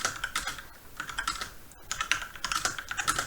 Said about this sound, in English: so if I type